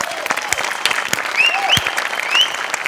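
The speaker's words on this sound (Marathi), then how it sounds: "सगळ्यात आधी सेटिंग वाल्यांसाठी जोरदार टाळ्या." Studio audience at a Marathi comedy show clapping hard for the set crew, dense loud applause with sharp whistles cutting through.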